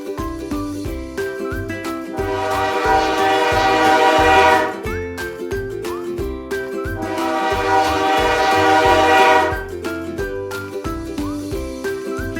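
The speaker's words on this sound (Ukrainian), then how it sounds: "А я потяг мчусь швидко по рейках і везу наших друзів у далекі міста." A train rumbles along steadily with rhythmic clacking, and a horn sounds in two long blasts that swell and fade, fairly close and loud.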